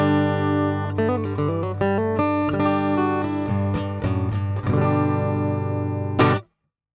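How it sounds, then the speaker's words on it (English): Clean acoustic-style guitar tone from a Fender Acoustasonic Stratocaster, a steady run of picked notes and chords, close and clear, ending with a bright strum before stopping. "you can very quickly go back to a luscious acoustic sound like this"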